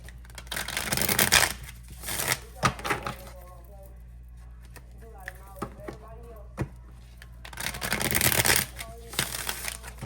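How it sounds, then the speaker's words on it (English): Tarot cards being shuffled by hand, two bursts of crisp riffling and flapping separated by quieter handling, with faint tonal sounds in the background. "One more shuffle."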